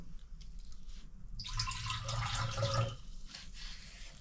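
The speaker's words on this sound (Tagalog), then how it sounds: "Hugasan ko yan at pupunasan ng basahan." Water running from a kitchen tap while food is washed, a soft trickle that swells into a louder splashing gush for about a second and a half, then drops back to faint dripping.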